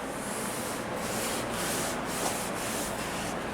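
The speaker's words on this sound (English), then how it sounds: "I did do some time lapse on the sanding with the Dremel." Rotary Dremel tool sanding body filler on console work, a steady continuous abrasive rubbing hiss held close and loud for the whole stretch with slight pulsing as the tool moves.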